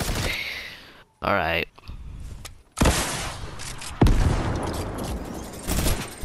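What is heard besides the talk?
minigun firing in video game Siphon 2.0 tank battle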